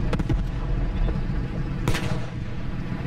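Heavy booms of tank or artillery rounds in a WWII video game battle at Bayeux. A quick cluster of shots opens, then one loud, sharp blast rings out mid-way, with a rumbling background throughout.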